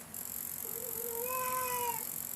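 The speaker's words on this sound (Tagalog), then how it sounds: "Ay na, ang pusa. May iyak na naman." A house cat gives a single drawn-out, rising then falling meow, moderately close but soft, over a steady high-pitched electronic whine.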